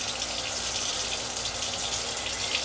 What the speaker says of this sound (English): I'm just squeezing out the excess water